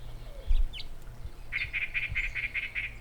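A yellow-breasted chat calls in the background, giving a run of about eight evenly spaced, fairly faint repeated notes among other bird sounds, with a brief earlier chirp.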